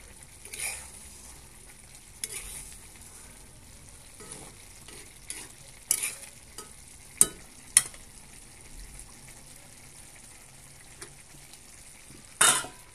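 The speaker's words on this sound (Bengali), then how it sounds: "দিয়ে এখন ভালোভাবে একটু চারপাশ একটু নেড়ে চেড়ে দেব।" Egg noodles with spices stirred in a frying pan at home: a soft, steady sizzle runs throughout, broken by several sharper scrapes and clinks of the utensil against the pan, a few of them loud and close.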